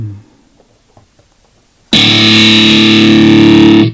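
After a few quiet taps and string noises, a loud, heavily distorted electric guitar chord slams in through an amp with the gain turned up, sustaining, buzzing and thick, until it cuts off.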